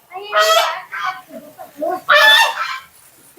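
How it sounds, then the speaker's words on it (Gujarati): Geese honk loudly near a temple pond in several harsh, nasal bursts, closely bunched and close by, with a short pause between two main calls. "અહીંયા નીચે બધા બર્ડ્સ છે જોઈ લો"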